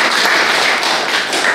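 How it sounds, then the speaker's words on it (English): A room full of people gives a round of applause at a meeting: dense, loud, continuous clapping from many hands, close and steady throughout with no talk over it. "So please give him a big round of applause"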